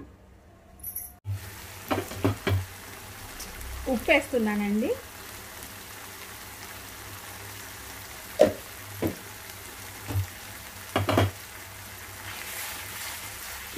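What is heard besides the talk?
beans frying in pan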